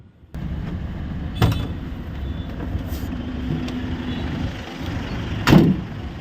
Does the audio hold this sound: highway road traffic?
yes